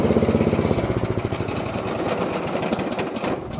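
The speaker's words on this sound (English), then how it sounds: "Now if I get off, the engine should die." A Cub Cadet CC30H riding mower engine runs with a rapid pulsing chug that weakens and shuts off after its blades were engaged with the park brake on, heard close up without speech.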